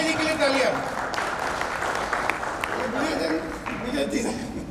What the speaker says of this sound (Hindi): विजय जी के लिए तालियां।